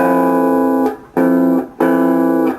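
Two sustained guitar tones ring together in a steady major seventh interval, repeated three times with brief gaps, clear and close with no speech.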